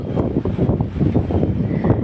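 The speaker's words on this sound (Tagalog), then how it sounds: "lakas ng hangin" Strong typhoon wind by a river in Taiwan buffeting the microphone, a loud continuous low rumble with uneven gusty surges.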